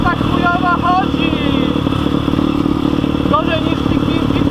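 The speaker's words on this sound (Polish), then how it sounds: "jedziemy, żeby się silnik ochłodził." Motorcycle engine running steadily while riding, a loud continuous rumble close to the microphone with clattering mechanical texture, as someone speaks over it.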